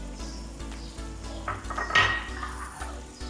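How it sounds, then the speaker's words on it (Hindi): Three green chilies go into a simmering pot of chicken karahi, making soft clinks and scrapes against the cookware over a faint background sizzle, with one louder clatter near the middle. "अब हम इसमें डालेंगे सब्ज़ मिर्चें 3 अदद"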